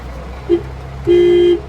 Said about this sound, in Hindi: ये अब हॉर्न, आपका हॉर्न है, हॉर्न दबा के दिखाइए तो